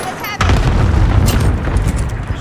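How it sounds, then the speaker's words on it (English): A loud, deep airstrike blast in a video game hits suddenly and rolls on as a sustained rumbling roar, with voices talking faintly underneath. "send the airstrike here"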